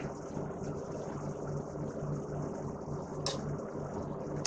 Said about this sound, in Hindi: तो थोड़ा थोड़ा करके कीमा पीसना है, इसके साथ इसलिए पीस रहे हैं प्याजों को